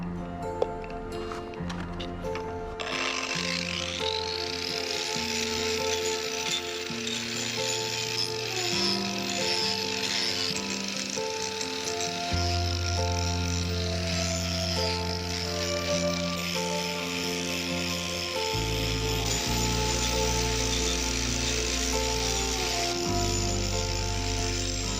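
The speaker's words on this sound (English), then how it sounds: "next step is using my angle grinder with a very rough teeth bit on it for wood" An angle grinder fitted with a rough-toothed wood bit cuts into wood, sending out a loud, sustained mechanical drone whose pitch steps up and down as the load changes, with chattering rattles throughout and no talk.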